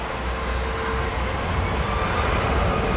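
A Turkish Airlines Airbus A321 landing on runway 20 gives a steady, loud broadband roar of jet engines and rushing air that holds without a break and has no voices over it.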